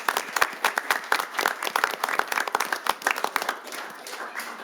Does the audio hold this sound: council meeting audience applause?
yes